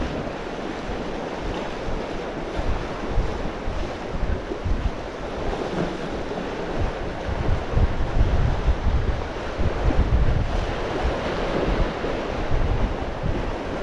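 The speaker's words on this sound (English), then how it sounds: "hearing that sea crashing" Sea waves crash and wash steadily along a shore at a bass fishing spot, a continuous loud surf roar with gusting wind buffeting the microphone and no talking throughout.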